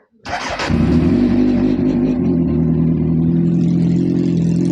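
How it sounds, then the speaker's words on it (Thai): A motorcycle engine starts up close by, then settles into a loud, steady rumbling idle with a rough, throaty tone that runs continuously without pause. "รถก็จะประมาณนี้นะทุกคนเดี๋ยวฟังเสียงกันหน่อย"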